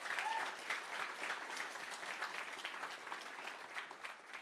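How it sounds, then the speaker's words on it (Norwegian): Audience applause at a talk, a moderate crowd clapping continuously at fairly low volume, even and sustained for the whole stretch without any speech over it. "Det synes jeg fortjener en applaus."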